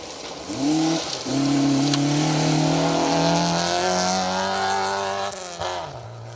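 A little front-wheel-drive Ford Ka rally car with a 1.3 litre engine runs hard on a stage of the Trackrod Rally. Its loud, sustained engine note holds and climbs for several seconds before easing off.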